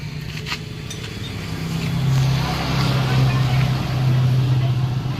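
A motorcycle engine runs steadily at idle in a roadside repair setting, a continuous low throbbing hum that swells slightly louder partway through, with no talk over it.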